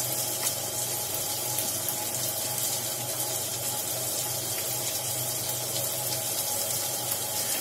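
Water runs steadily from a tap into a bowl of homemade ground spice masala for stuffed bitter gourd, making a continuous splashing hiss with no pauses.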